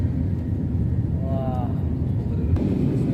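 Cabin of a passenger airplane climbing just after takeoff on a first flight, a steady low engine rumble filling the space with a faint rising whine, heard up close.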